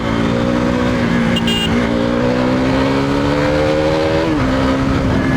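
A KTM Duke 390 BS3 single-cylinder motorcycle accelerates hard, its engine note climbing steadily through a long loud pull, dipping briefly at a shift before rising again, with heavy wind rush throughout.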